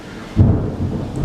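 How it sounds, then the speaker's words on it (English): Thunder rumbles loudly outside during a heavy rainstorm, a deep roll swelling up over a steady hiss of falling rain, with no talking. "it's raining outside, it's storming really bad"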